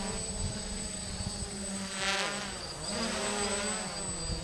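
A DJI F450 quadcopter with a 360 mm frame on a 4S LiPo gives off a continuous high-pitched buzzing whine that shifts in pitch as it comes in to land, near and loud.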